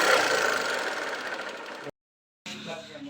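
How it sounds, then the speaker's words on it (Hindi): A Hero Achiever motorcycle engine runs with a loose timing chain and loud piston noise, giving a steady rattling, knocking drone that cuts out abruptly, then resumes after a brief silence. "आप देख सकते हैं इंजन का साउंड जो होता है कि झरझर और कट सी, और टाइमिंग चेन और पिस्टन का आवाज़ बहुत ही ज़्यादा है"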